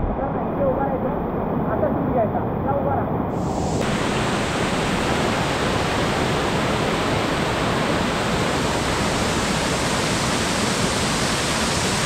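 Bokadkada waterfall near Virar, a dense, loud, unbroken roar of cascading water heard up close, steady and enveloping throughout.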